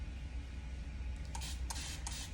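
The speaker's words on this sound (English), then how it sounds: "I like using spray bottles that have more of a mist" A spray bottle set to a fine mist dampens hair in three quick hissing bursts, the last two close together, over a low steady room hum.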